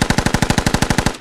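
Automatic weapon fire in the video game Squad: a rapid, evenly spaced burst of about fourteen loud, close shots that stops abruptly, with no talk over it.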